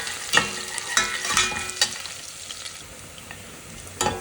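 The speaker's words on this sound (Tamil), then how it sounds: "பூண்டு வந்து இந்த ஆயிலில் நல்லா ரோஸ்ட் ஆகணும்" Garlic cloves fry in hot oil for a pasta dish, with a steady sizzle under regular scraping stirs of a utensil against the pan, close and alone without talk.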